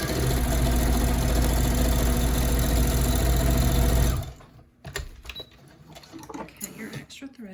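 A sewing machine stitches scrunchie fabric in a fast, steady mechanical hum for about four seconds, then stops abruptly, leaving quieter handling noises and a voice speaking.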